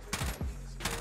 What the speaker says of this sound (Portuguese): Tá dando tiro em campo aberto, em ninguém.